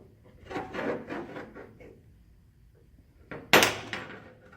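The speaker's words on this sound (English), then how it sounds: "I'm going to attempt to bend this all the way around." A small pipe bender working a metal tube, giving a few close creaking, rubbing strokes, a pause, then a sharper scraping clack followed by fainter rubbing.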